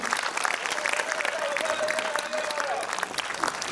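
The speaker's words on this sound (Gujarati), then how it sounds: "ઊભા થઈને એકવાર જોરદાર તાળીઓ પાડો" A standing audience bursts into loud, dense applause at the close of a speech, many hands clapping continuously and evenly for the whole stretch.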